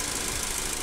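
A 2014 Ford Focus SE sedan's engine runs in a brief, steady, dense mechanical roar, loud and close with no breaks and no voices.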